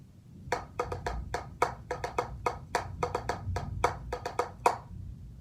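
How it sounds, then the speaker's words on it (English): Sharp stick strokes on a practice pad in a paradiddle sticking pattern, single taps mixed with rapid double strokes on the second sixteenth note, close and crisp. "double stroke roll on that second 16th note."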